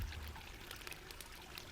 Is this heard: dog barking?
no